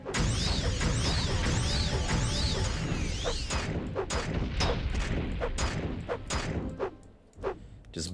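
Explosions in Morrowind go off as the player blasts enemies, a dense crackling, fireworks-like burst at first that breaks into scattered sharp bangs and clatters.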